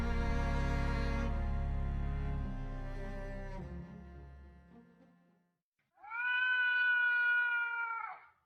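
A large black cat meows in a long, drawn-out cry that rises clearly near the end, following a fading tonal passage and a short silence, with no voices alongside, as a sound effect in an audiobook.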